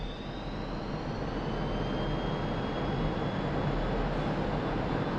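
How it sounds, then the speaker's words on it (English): In a flight simulator game, a jet engine spools up for takeoff as a steady, dense roar with a faint rising whine, loud and continuous without voices. "Let's get our engine spooled up."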